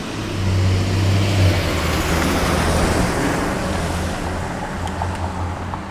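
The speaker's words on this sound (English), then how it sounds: "We're gonna chill here for a second as we wait for these cars to pass" Several cars roll past on a road while a cyclist waits at a red stoplight, a steady broadband traffic rumble that swells and fades, fairly loud and close, with no talk.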